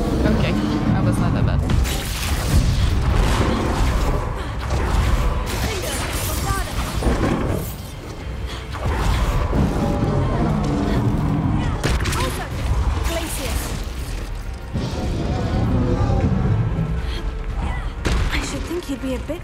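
Fire spells burst repeatedly in Hogwarts Legacy combat, loud whooshing blasts and crackling booms arriving in clustered waves over the whole stretch, amid other game effects.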